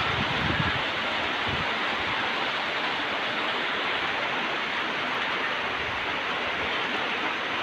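Rain and wind sweep across a rural yard in the Mekong Delta countryside: a steady, dense roar of falling rain with gusts, loud and continuous throughout, with no voices.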